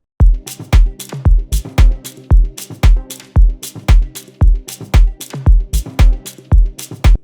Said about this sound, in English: Shaker sound right here